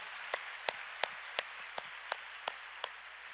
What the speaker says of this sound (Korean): 우리 중동부를 위해서 박수 한번 치겠습니다